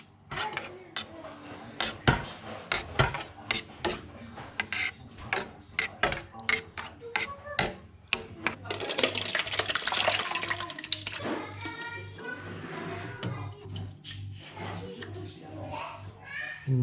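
Homemade cheese curds cut into small cubes are poured into a large draining mould, giving wet sloshing and dripping splashes that build into a steady pouring rush before thinning out.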